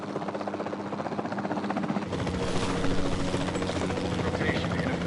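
A helicopter drones loudly and steadily, rotor thrum and engine whine filling the scene, growing fuller and louder partway through.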